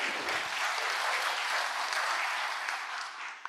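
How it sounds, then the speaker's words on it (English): A conference plenary session audience breaks into sustained, dense applause that fills the hall evenly from start to finish and tapers slightly at the end. "Please give him a big round of applause."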